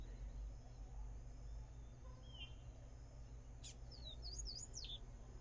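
A small bird gives a few faint, high chirps late in the clip over a steady low background rumble, with no talking.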